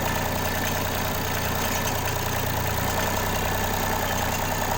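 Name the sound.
tractor engine idling on farm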